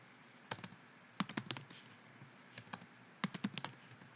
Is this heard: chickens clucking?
no